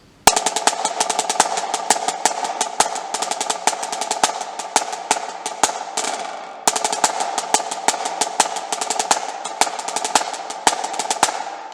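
Marching snare drum plays an accented beat at a slower tempo, crisp close strokes and short rolls repeating steadily, pausing briefly before the loop starts again.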